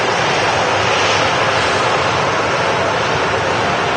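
A Boeing 737 about five years old at Manchester Airport roars with a loud, steady broadband engine rush that holds unbroken throughout, with no voices.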